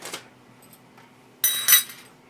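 Long M4 socket head cap screws, about 11 cm, from an airsoft microgun being handled, giving a few faint metallic clinks and taps, with a brighter jingle of metal near the end.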